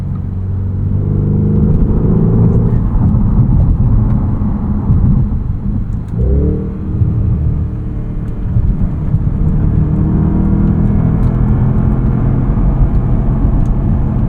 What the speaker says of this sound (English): that 4-liter V8. It just sounds fantastic under your right foot